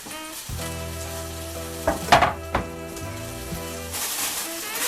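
Chopped celery and onion hit a hot soup pot, bursting into a loud crackle midway and then building into a broad sizzle at the end, over a steady background hum.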